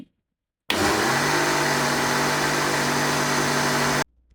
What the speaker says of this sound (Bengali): এবার লাস্টে সম্পূর্ণ তেল দিয়ে ব্লেন্ড করে নিচ্ছি